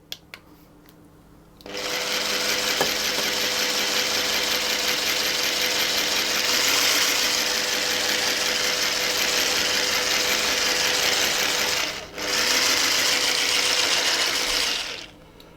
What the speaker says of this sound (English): I'm going to have my whisk working on a very low speed